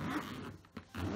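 The zipper on an Away medium luggage suitcase is pulled in two quick close-up runs with a brief pause between them, a crisp ratcheting rasp with no talk.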